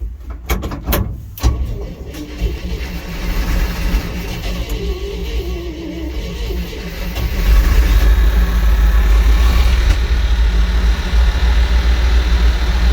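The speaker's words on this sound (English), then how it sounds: "I do start this truck up and let it run and we move it around." A few clicks and clunks, then an old truck engine rumbles into a low, steady idle that grows louder and fuller, close by.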